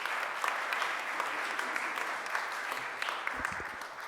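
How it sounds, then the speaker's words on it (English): A room full of people applauds as a city council president is introduced at a civic event, a fairly soft, even clapping that continues throughout, with a brief low voice near the end. "Please give him a round of applause."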